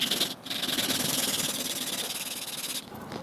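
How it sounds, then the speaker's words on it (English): Steady, close rubbing of sandpaper on an oak rocking chair being restored, a continuous hissing scrape with a brief pause near the start and a dip toward the end. "I'm gonna sand some more"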